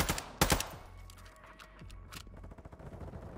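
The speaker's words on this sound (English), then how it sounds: "Oh my god, why did he shoot at me?" Video game gunfire on the Vondel map: a loud cluster of sharp gunshots near the start, followed by scattered fainter shots and clatter continuing in the background.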